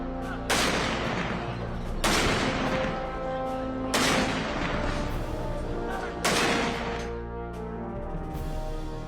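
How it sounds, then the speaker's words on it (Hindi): Heavy cannon blasts of a seventeen-gun salute at a general's funeral boom one after another at slow, even intervals, five loud reports each rolling off into a long echoing tail. "सत्रह तोपों से दी गई सलामी।"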